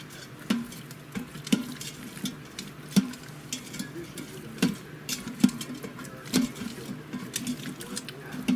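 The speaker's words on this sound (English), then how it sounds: "Stir that all up." Frozen broccoli florets are stirred into bulgogi inside an Instant Pot, making a steady series of sharp utensil knocks and scrapes against the pot, roughly one every half-second to second, close up over a low background hum.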